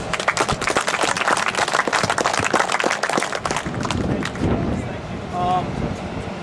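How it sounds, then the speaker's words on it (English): A round of applause at a football camp session, dense overlapping clapping from a group for several seconds before thinning out, with voices talking underneath and afterward. "give him a round of applause"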